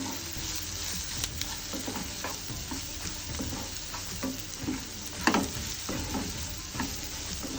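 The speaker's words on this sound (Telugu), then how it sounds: "ఈ వెల్లుల్లిపాయ కారం కూడా మరి ఇలా ఉండలుగా లేకుండా మొత్తం కలిసిపోయే విధంగా కలుపుకోవాలి." Pounded garlic chili powder fried and stirred in a pan for an egg dish, a dense hiss of frying with frequent spoon scrapes and taps, close by and free of speech.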